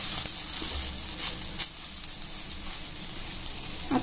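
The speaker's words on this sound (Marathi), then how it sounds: "तुम्ही बघू शकता मित्रांनो, इथे छान प्रकारे फ्राय होती आहे भेंडी" Okra stuffed with masala sizzles and fries in a pan, a soft, steady hiss with light crackles and pops, close by and fairly quiet.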